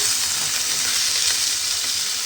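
Soaked chickpeas are stirred in a frying pan. A loud, dense, hissing sizzle holds steady throughout with faint scraping beneath, close up and without speech.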